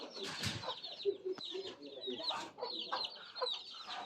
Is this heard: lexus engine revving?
no